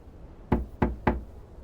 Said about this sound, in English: That's what you call knocking.